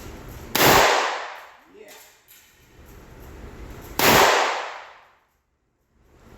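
Two loud, sharp revolver shots from a Taurus 605 at an outdoor shooting range, each a sudden blast with a decaying tail, spaced about three seconds apart, with brief talk between them.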